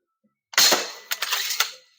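A slingshot gun fires at a target: a sharp snap followed by a rattling clack and several quick knocks, close and loud in a short burst.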